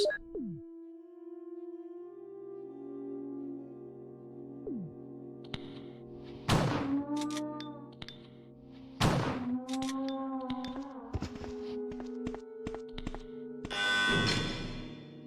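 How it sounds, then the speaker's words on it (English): Shotgun blasts in the 1996 video game Resident Evil, played as Jill Valentine: a few loud, sharp booms spaced seconds apart, ringing over steady synth game music and scattered metallic clangs. "We're gonna shotgun this guy."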